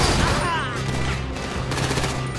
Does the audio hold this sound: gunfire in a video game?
yes